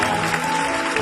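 A church congregation applauds during a New Year worship service, a brief steady wash of many hands clapping.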